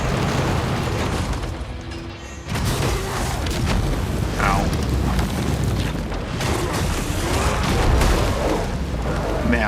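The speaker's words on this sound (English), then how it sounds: "I don't remember her ever like firing the cannon at point blank like that" A boss in Mortal Shell 2 fires a cannon at point blank, giving heavy booming blasts and rumbling impacts up close amid loud combat noise, while a voice talks over it.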